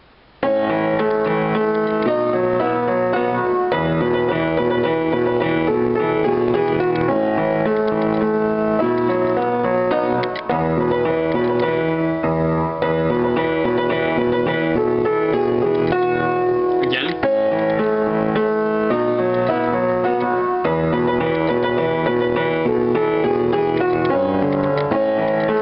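Piano plays the second portion of the fifth movement of a piece in a steady stream of dense, sustained chords and melody that continues unbroken for the whole stretch.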